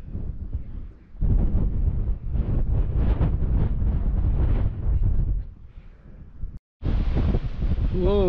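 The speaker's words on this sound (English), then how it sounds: "Whoa, it's windy up here." Strong wind buffeting a microphone on top of Almscliffe Crag, loud irregular rumbling gusts that surge and ease, a brief dropout, then a renewed hard blast.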